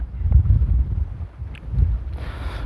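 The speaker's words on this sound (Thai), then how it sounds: "นี่น้ำนี่ลมก็แรงนะ" Strong wind buffets the microphone beside the choppy reservoir of Pasak Jolasid Dam, a steady low roar of gusts that swells and eases, with a brief brighter hiss near the end.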